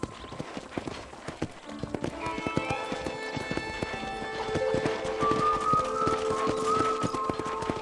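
In the video game Red Dead Redemption, a horse gallops at a ranch with rapid, steady clip-clop hoofbeats close by, set against soft in-game music.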